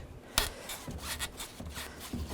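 Rubber radiator hoses slide off the fittings of a 2011-15 Kia Sorento. The clip holds several faint, close rubbing and scraping bursts with a sharper scuff near the start.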